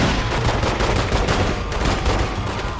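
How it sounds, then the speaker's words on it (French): Rapid pistol gunfire in The Godfather II video game, a dense, continuous burst of shots with loud low-end thumps running through the whole stretch, no talking over it. "Je suis toujours en mitrailler avec un pistolet, ça c'est cool."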